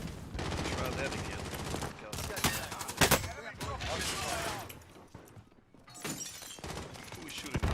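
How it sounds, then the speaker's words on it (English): Gunfire from a Call of Duty match, bursts of shots and shattering impacts scattered through a busy mix, with a voice talking over parts of it. "Who is shooting?"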